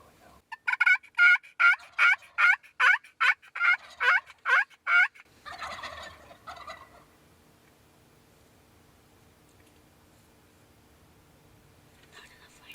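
A wild turkey gobbler calls in a quick series of about ten loud, rattling gobbles up close, then fades into quiet outdoor background with faint rustling.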